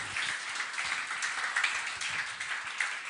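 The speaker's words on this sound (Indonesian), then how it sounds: "berikan tepuk tangan untuk kita semua" An audience at a youth seminar claps hands, a continuous, moderately faint patter of many hands with slight swells, no voices over it.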